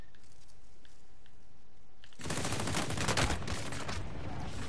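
Gunfire in the Warzone video game: quiet ambience for about two seconds, then a loud, dense burst of rapid automatic shots that keeps going to the end.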